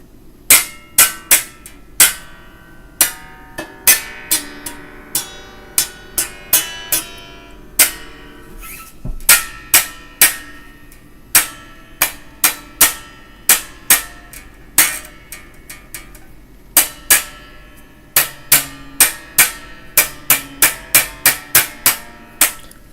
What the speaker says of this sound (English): the string hitting the fretboard